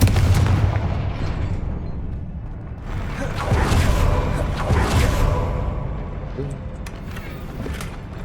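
A Confringo fire spell cast in the video game Hogwarts Legacy, a loud booming burst with a whooshing roar that swells and fades over several seconds, heard over game sounds and speech.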